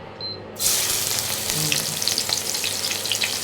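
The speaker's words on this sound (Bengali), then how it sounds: "এবার নাহেন পেঁয়াজ দাও আস্তে আস্তে পেঁয়াজ ছাড়ো আস্তে করে ছাড়বা" Chopped onions dropped into hot oil burst into a loud, steady sizzle that starts abruptly after a quiet moment and keeps crackling with occasional pops, with faint background voices, while tomato-based lunch cooking goes on in a home kitchen.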